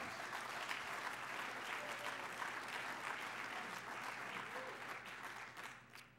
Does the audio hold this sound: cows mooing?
no